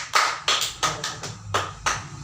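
A school class claps hands together during a lesson on forces, about six separate, fairly loud claps in a rhythmic group pattern, each a sharp slap with a short tail and no talking.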